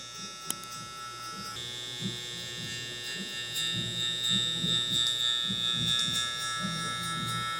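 Electric hair clippers with the lever closed hum steadily during a low taper cut on curly hair, a continuous close buzz that rises slightly partway through, with faint handling noises.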